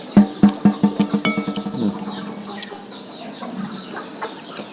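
A chicken crows and clucks close by in a rapid burst of about eight sharp, evenly spaced calls, then trails off into softer, scattered clucking and low background noise.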